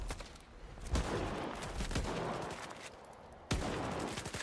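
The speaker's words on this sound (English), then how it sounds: "they shoot me in the back as well" Enemy gunfire in the shooter STALKER 2, a steady run of close rapid shots with sharp cracks, one hard crack near the end, no voices over it.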